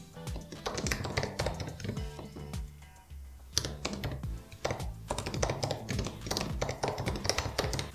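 Quick, close clicking of computer keyboard keys as a signature name is typed, uneven bursts of taps with a brief pause midway.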